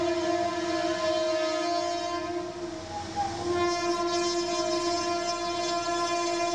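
A train passes with a loud, sustained horn blast holding steady tones for several seconds, dipping briefly midway before sounding again, with rumbling rail noise underneath.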